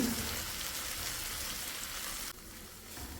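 Banana roasting and being sautéed in a pan as an evening snack, a steady close sizzle of frying with a soft rain-like crackle throughout and a brief dip near the end, no talking.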